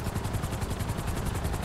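A Sparrow helicopter flies in a video game, its rotor producing a steady, loud, rapid rhythmic thumping whir that carries on throughout.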